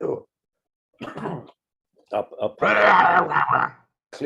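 A person clears their throat with several rough, guttural bursts, the longest and loudest near the end, separated by brief pauses.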